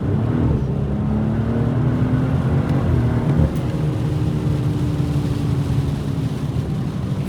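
BMW M240i with a B58 engine pulling under acceleration, a loud, close engine drone with rising tone as revs build through a gear, steady road rumble beneath and a slight shift partway through.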